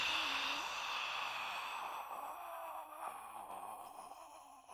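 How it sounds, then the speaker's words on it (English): A long breathy exhale on a voiced ha sound, done as a standing breathing exercise, airy and drawn out, gradually fading away. "Now say ha and say and exhale."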